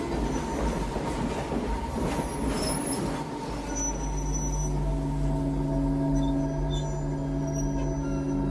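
A passenger train rolls steadily along the tracks, a continuous loud rumble with faint clickety-clack and high wheel squeal tones running throughout, no voices present.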